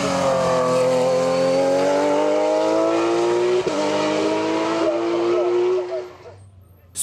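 A Porsche 991 GT3 Cup race car drives past loud and close, its engine note rising steadily through the gears for about six seconds before fading quickly as it moves away.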